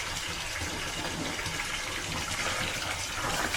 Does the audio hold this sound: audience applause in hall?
no